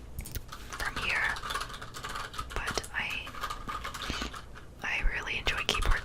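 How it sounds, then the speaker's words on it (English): Soft, irregular clicks of a computer keyboard being typed on close to the microphone, under continuous whispering. "I don't know if you guys can hear my keyboard"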